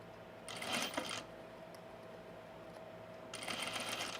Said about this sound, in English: Sorry about all the presser foot noises.